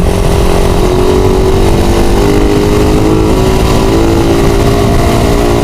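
A Kawasaki ZH2 big bike rides alongside on the road, a loud continuous engine drone with steady wind rush and a gradually rising pitch, close and with no talk over it.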